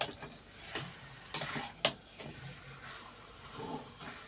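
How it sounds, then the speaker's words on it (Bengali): Chicken stirred with spice masala in a pan for palak (spinach) chicken: a spatula scrapes and clacks against the pan in irregular strokes, with light sizzling underneath. "ভালো করে মিক্স করে নিচ্ছি আমি চিকেনটা দিয়ে"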